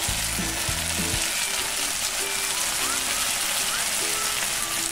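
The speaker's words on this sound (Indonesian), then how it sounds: "Setelah dimasak kurang lebih 1-2 menit, kita masukkan 100 gram toge." Bean sprouts and vegetables stir-fry in a hot pan, a loud continuous sizzle with a few low clunks of the pan or utensil early on, and a faint voice briefly in the background.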